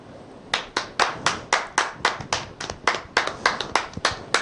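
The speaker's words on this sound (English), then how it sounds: "let's all give a round of applause for Addie in the studio." A small group claps in a broadcast studio, giving about sixteen sharp, evenly spaced claps in a steady rhythm, close and distinct over a quiet room.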